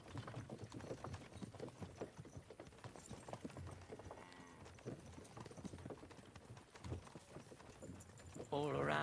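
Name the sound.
horses clip-clopping, from video game Kingdom Come Deliverance 2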